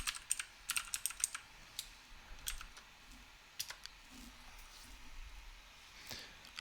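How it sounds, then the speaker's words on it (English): Quick bursts of typing on a computer keyboard, clicking keys in fast clusters with short pauses, close and fairly quiet, no voices. "I am typing real quick to ask for"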